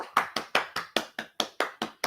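Hands clap at a live R&B anniversary show: about ten crisp, evenly spaced claps in a steady rhythm, close and clear, each with a short decay.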